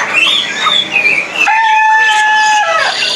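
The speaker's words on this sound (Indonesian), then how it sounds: "Ini kalau untuk kenari sih udah gacor banget ya" Canary song at a bird-market kiosk in Pramuka, Jakarta: bright, high warbling trills and a sustained whistled note, loud and close, with the crowded market atmosphere behind.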